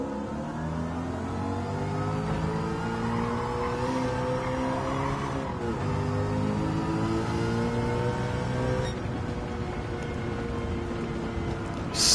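Sustained loud engine note of a fast car in a racing video game, revving high with steady harmonic whine, slight pitch dips at shifts around the middle, no voices.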